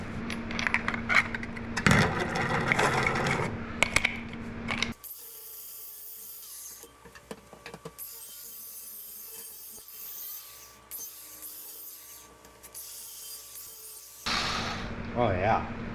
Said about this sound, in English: Let's get a grinder or a flap wheel and clean that up a little bit